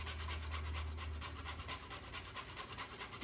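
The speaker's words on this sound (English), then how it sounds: "You just rub it over the grater" Whole nutmeg rubbed over a kitchen grater while making quiche, a soft steady rasping scrape repeated in quick strokes, close and fairly quiet with no talking.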